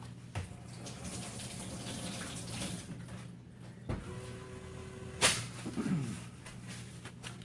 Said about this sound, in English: What I'm going to do is wash my hands very quick.